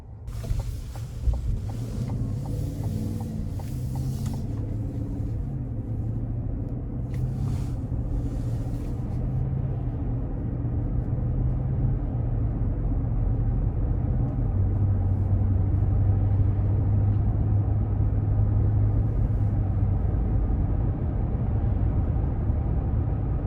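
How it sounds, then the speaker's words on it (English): A 2022 Cadillac Escalade Sport cruises on the road, heard from inside as a steady low rumble of engine and tyre noise with a few brief clicks early on, continuous and even throughout. "take this new 2022 Escalade Sport out on the road for a quick test drive"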